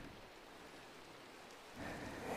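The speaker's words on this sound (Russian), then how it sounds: "Еще этот дождь постоянно бьет по подоконнику и стеклу" Steady rain patters against a windowsill and window glass, softer at first and then growing louder and denser near the end.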